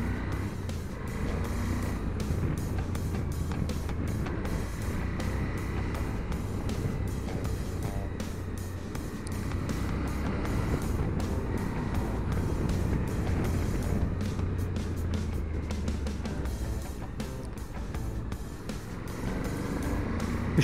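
A 2021 Suzuki V-Strom 1050 XT motorcycle rides in second gear, its steady engine drone and road rumble continuous and close throughout, with wind noise layered over it and no talking.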